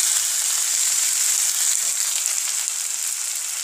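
Onions with green chilli and a splash of water sizzle steadily in a pan, a dense, close hiss that holds constant throughout with no voices.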